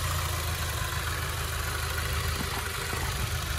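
A 2021 Subaru WRX base with its 2.0-liter turbocharged boxer engine idles steadily at close range under the open hood, a continuous low rumble with no voices.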